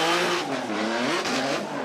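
Tetsuya Hibino's drift car flicked hard at Formula Drift Japan, a loud, close engine roar with shifting revs and a smeared tire-screech hiss, continuous for the whole moment with no voices.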